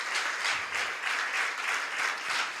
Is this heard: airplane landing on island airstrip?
no